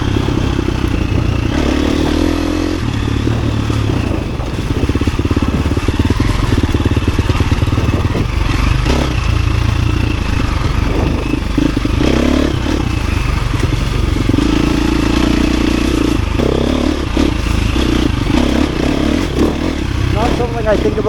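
A 350 dirt bike rides along flowy trails, its engine droning steadily and loudly up close, with clatter and scraping from the terrain and a voice speaking over it.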